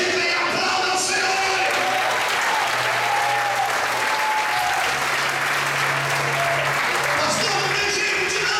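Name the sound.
congregation applauding in church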